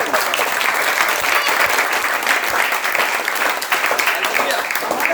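A church congregation at a Sunday service claps in a dense, sustained burst of applause that stays loud and even throughout, with crowd noise mixed in.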